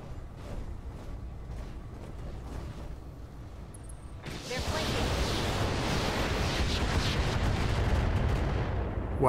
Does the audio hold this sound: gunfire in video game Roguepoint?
yes